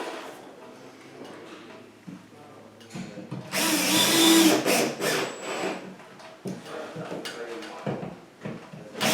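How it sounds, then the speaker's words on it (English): A power drill drives a countersunk screw into a plaster ceiling rose fixed through to a joist, with a loud burst of whirring and grinding in the middle and quieter handling noises and some speech around it. "I'm going to countersink a screw into the ceiling rose."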